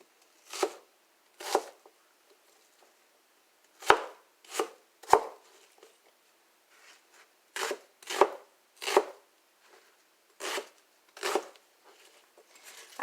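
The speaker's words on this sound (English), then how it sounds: "So I'm just going to do a rough chop of them" A knife roughly chops onion on a cutting board in about a dozen crisp, separate strikes. They come in uneven bursts with short pauses, close and clear, and no one speaks.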